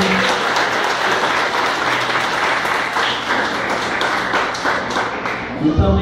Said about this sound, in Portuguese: Vamos dar uma aplauso de Jesus para vocês.